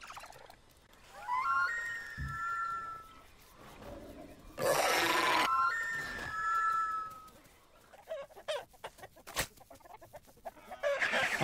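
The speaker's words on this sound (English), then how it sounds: "I haven't seen this chicken yet." A chicken in the video game The Isle: Evrima clucks and crows in two drawn-out calls, fairly loud, mixed with louder bursts of game sound and rustling.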